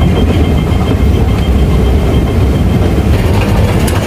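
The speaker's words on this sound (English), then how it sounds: "So dito na ang train." A train on a metro line toward Sunny Bay station in Hong Kong gives a loud, steady, close rumble with a constant low roar and no talking.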